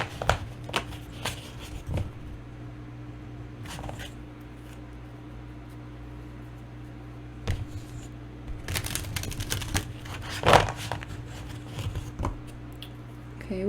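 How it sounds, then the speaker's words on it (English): Prism Oracle cards being shuffled by hand close up, repeated crisp riffling and tapping bursts spread unevenly through a quiet room, with a faint hum underneath. "Let's shuffle."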